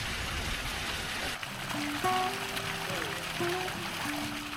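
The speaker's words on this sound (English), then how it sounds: "Oh, there's even more water coming out there." A mineral spring on the Camino de Santiago gushes water in a continuous close splashing rush, with a voice talking over it.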